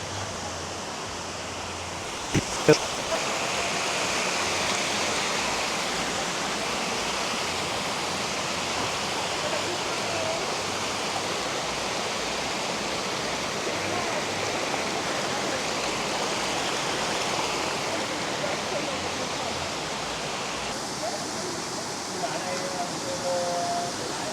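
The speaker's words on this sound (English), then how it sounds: "Here's the waterfall, I think." Steady broadband rush of a waterfall in Cat Cat Village, Sapa, Vietnam, fills the whole stretch, continuous and fairly loud, with a couple of brief knocks near the start.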